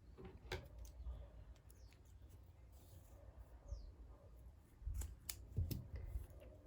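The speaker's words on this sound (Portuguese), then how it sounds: "Faço uma correntinha e posso cortar o meu fio." Scissors snip through crochet yarn at the end of a heart-pattern crochet placemat, a few quiet, quick cuts close by with faint rustling of the work and no talk.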